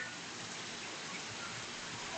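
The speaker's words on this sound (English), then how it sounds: "Okay, so I got some of this little sleet falls into my rain poncho, right?" Fine sleet pattering steadily onto a rain poncho, a dense, even hiss of tiny impacts throughout, soft and continuous with no voices.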